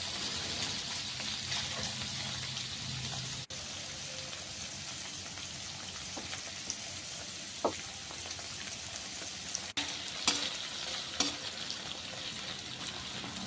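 Diced paneer with turmeric is stirred as it fries in oil in a wok: continuous close sizzling with occasional clicks and scrapes of the spatula against the pan, and no talking.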